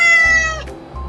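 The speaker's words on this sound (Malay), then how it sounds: "Kucing je kan selalu masuk." A house cat gives one clear, loud meow up close, a drawn-out tonal cry that fades after about half a second, followed by faint low rumble.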